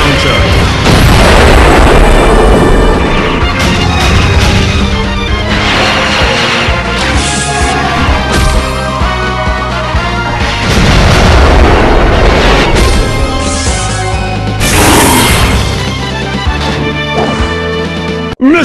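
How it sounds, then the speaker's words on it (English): Rocket launcher blasts in the Metal Slug Commander video game, a loud, dense run of repeated booms and crashes with bursts and debris, continuous across the whole stretch with almost no pause. "Rocket launcher!"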